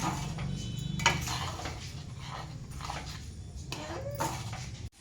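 Spoon stirring Gobindobhog rice for sweet payesh in a cooking pot, with repeated soft scraping and clinking against the metal at close range, steady and continuous.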